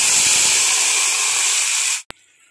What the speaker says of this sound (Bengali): সাথে এবার আমরা পেঁয়াজ বাটাটা অ্যাড করে দিই আস্তে আস্তে।